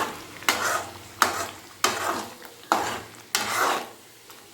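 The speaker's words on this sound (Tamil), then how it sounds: "கலக்கி விட்டுக்கோங்க." Tomato thokku bubbling in a pan is stirred with steady, rhythmic scraping strokes, about five close, loud swishes spaced under a second apart, with a faint simmer between them and no talking.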